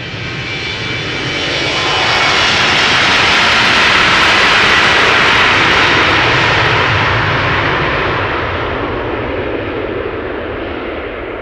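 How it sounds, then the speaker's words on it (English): An Embraer 190 jet departs Amsterdam Schiphol Airport in snowy conditions, its engine roar rising into a loud, steady broadband rush at close range before slowly fading as it climbs away. "Embraer 190 outbound Newcastle."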